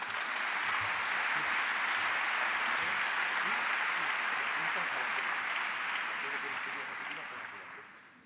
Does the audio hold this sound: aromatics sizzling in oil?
no